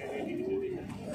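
Madrasi pigeons in a loft in Barrackpore, Kolkata give one smooth, sustained coo, close and clear over a steady background.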